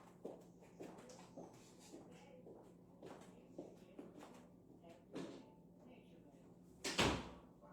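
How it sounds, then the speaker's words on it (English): A bedroom door is shut at home in the evening, landing as one loud, sharp thud near the end after several seconds of soft shuffling and rustling movement. "let me shut my bedroom door"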